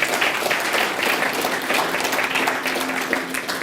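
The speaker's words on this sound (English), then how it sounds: "Let's give a round of applause." Steady applause from a crowd, dense clapping that holds at an even level for a few seconds.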